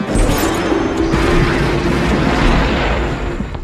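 A loud, sustained cinematic explosion roars with deep rumbling and crackling debris, filling the whole stretch before slowly easing.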